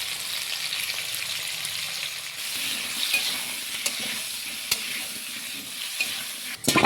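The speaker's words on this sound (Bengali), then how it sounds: "একটু নুন হলুদ দিয়ে আলুগুলোকে ভেজে নিচ্ছি" Potatoes seasoned with salt and turmeric fry in a pan, giving a continuous close sizzle with occasional stirring scrapes and a sharper burst of clatter near the end.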